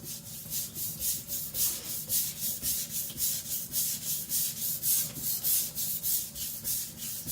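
An IKEA Chinese cleaver being sharpened on a stone, steady back-and-forth scraping strokes at a quick, even rhythm of about three per second, close and fairly loud with no talking.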